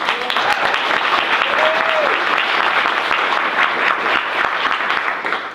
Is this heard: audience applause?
yes